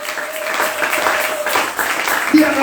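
A church congregation claps and cheers for Jesus, a steady close wash of applause with a voice over it and a sustained tone beneath.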